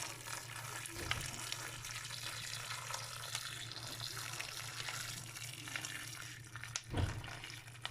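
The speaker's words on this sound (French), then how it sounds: "Et je vais rajouter mon eau bouillante." Boiling water poured from close by over calf's feet and chickpeas in a cooking pot, a steady gushing, splashing pour that runs continuously with a brief louder splash near the end.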